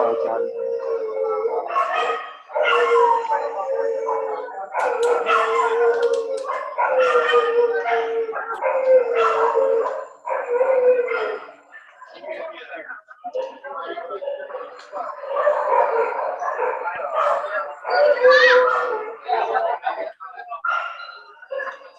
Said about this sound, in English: Have a lot of dogs barking right now.